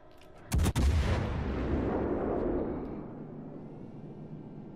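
A warship's heavy artillery salvo in a naval battle video game: a sudden loud booming blast followed by a long rumbling roar that slowly fades, with no talk.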